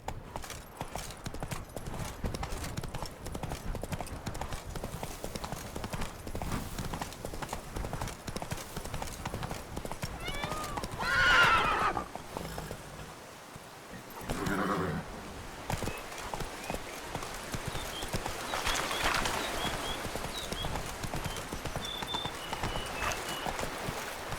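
Horse hooves clip-clopping at a steady gallop in the Witcher 3 video game, faint and rhythmic, with a brief whinny partway through and background ambience.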